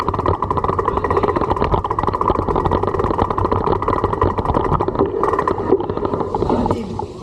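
Motorcycle engine running close by on a road near Kawa Falls, a loud, sustained mid-pitched rumble with slight fluctuations, easing off toward the end.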